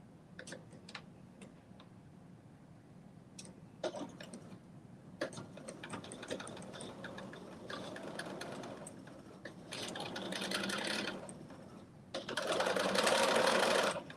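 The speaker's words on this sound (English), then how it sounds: "now I'm doing a top stitch" Sewing machine top-stitching a pocket on dressy joggers with an edge foot, the needle position set right at the fold; steady close mechanical whirring in bursts of varying length, with brief pauses between runs and louder, faster stretches near the end.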